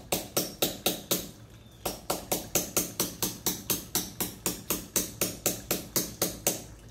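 A hammer lightly taps a hose hanger's sleeve into a wall, a fast, even run of about two dozen sharp, close knocks with one brief pause early on.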